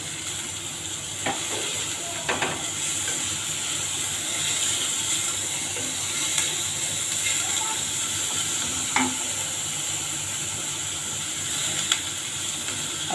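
Spring onion greens and eggplant being sautéed in a pan for a Maharashtrian bharit, giving a steady sizzle with occasional stirring clinks, close and continuous with no talking.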